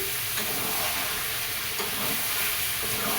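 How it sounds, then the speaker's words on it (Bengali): Meat sautéing with salt, turmeric, ginger and garlic in a pan gives a steady, moderately loud sizzle and hiss with faint stirring scrapes and no speech. "মাংস কষানো হচ্ছে এই এখনো হয়নি"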